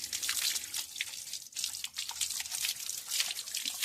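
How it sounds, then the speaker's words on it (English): Water streams and splashes steadily while a dog is rinsed during a bath after rolling in poop, a continuous close hiss of spray with small drips and shifting splatter. "Rinse it real good."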